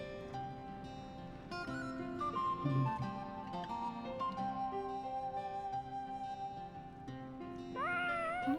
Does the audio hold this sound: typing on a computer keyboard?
no